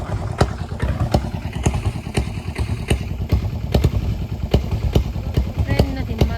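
Freight train passing a railway crossing near Gondal, heard as a steady rumble with repeated rhythmic clanks and thuds of wagons over the track joints, close and continuous throughout, with people talking faintly in the background.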